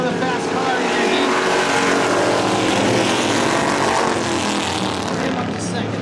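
Race cars, including a Chevelle and a Studebaker, roar past in a heat at a motorsports track, a dense, loud, sustained engine snarl under an announcer's commentary.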